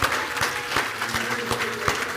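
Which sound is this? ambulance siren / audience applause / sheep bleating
audience applause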